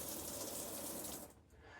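Water running from an upgraded RV shower head, a steady close hiss of spray that cuts off abruptly near the end.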